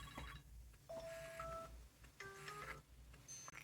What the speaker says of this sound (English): Here's the ringtones, and I can play a ringtone.